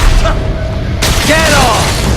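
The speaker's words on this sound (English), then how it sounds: "Firing RPG!" An RPG rocket launcher fires and explodes in the Metal Gear Rising video game, a loud, dense blast of broadband roar that fills the whole moment, with a brief whooshing, sweeping tone after the impact.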